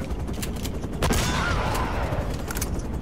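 Gunfire in the Uncharted video game: repeated scattered shots over a constant, busy battle ambience, with a louder crack near one second and further shots toward the end. No clear voices.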